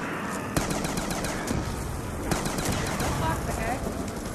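Rapid automatic gunfire from a weapon in a zombie shooter's Grief mode, sustained, loud and close, with a few sharper shots standing out and a voice faintly underneath.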